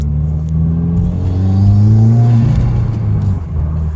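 Turbocharged engine of a 2015 Subaru WRX with twin-scroll turbo and K&N Typhoon aftermarket intake, a loud steady rumble and rising whir under boost in third gear, heard alone without talk.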